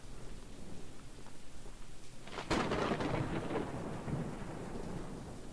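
Rain falls steadily in the Choo Choo Charles video game, and a loud thunderclap breaks at mid-clip and rolls on under the downpour; no one speaks.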